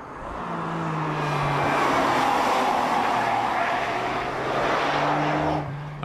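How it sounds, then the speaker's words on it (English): Ferrari 575 Maranello driven on a racetrack, its engine droning at a sustained mid pitch that rises and falls through a swell over several seconds, with faint tire scrubbing, heard at moderate distance. "Despite its burly build, the Maranello can be driven almost playfully around the course."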